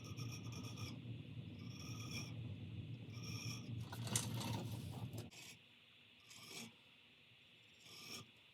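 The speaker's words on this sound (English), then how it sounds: "I'm going to use a small file here to put in some jimping on the spine" A small file rasps across the spine of a bushcraft knife blade, cutting jimping with steady back-and-forth strokes for about five seconds, then a few short separate file strokes follow in quieter surroundings.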